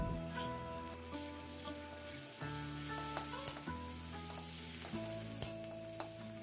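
Five or six curry leaves drop into hot oil and give a faint, steady crackle and sizzle. A low, sustained droning hum runs underneath, and a few light utensil clicks are scattered through it.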